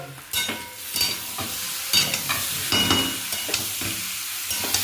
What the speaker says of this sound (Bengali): তো তারপরে এই যে মশলাটা কষাচ্ছি মাছের ঝোলের জন্য